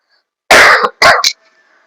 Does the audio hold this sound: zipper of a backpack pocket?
no